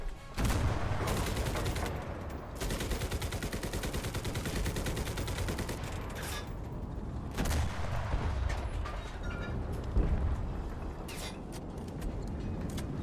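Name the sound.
machine gun fire in the video game Enlisted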